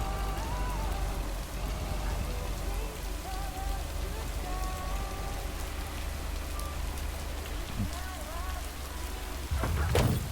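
Heavy rain pours steadily onto surfaces in a dense, constant hiss. A faint voice murmurs underneath, and a brief thump sounds near the end.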